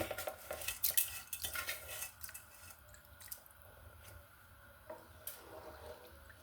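A spoon scrapes and clinks through a sticky glutinous rice mixture in a pot for inanget kakanin, busy close stirring at first that slows to sparse soft scrapes and taps.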